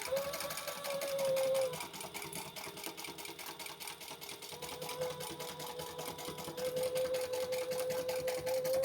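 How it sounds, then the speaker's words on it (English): A sewing machine runs fast and steadily, sewing down the sides of a white croc-pattern bag, with a motor whine and a rapid, even needle rhythm close by. "we need to sew down the sides and box our corners"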